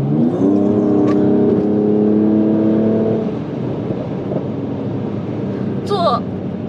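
A Mercedes-Benz E53 AMG accelerates hard, its engine note climbing in a loud sustained roar for about three seconds before settling into a lower steady drone of road and cabin noise, heard from inside the car.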